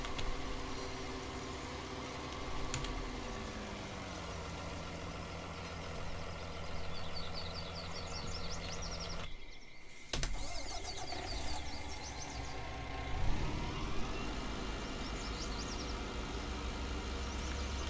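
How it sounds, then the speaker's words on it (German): A truck engine in the video game Landwirtschafts-Simulator 19 drones steadily with a rough, rattly tone, dipping briefly near the middle before revving back up, with no voices. "der klingt ja super scheiße für einen LKW"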